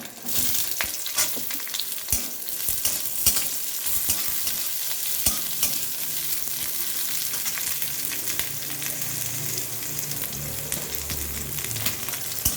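Coarsely chopped onions fry for red amaranth greens in a pan, with a continuous dense sizzle and frequent ladle scrapes and taps throughout.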